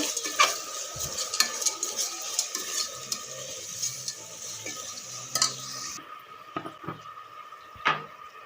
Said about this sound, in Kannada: ಟೊಮೊಟೊ ಮತ್ತು ಉಪ್ಪು ಎಲ್ಲ ಚೆನ್ನಾಗಿ ಮಿಕ್ಸ್ ಮಾಡಿ ಇಡಬೇಕು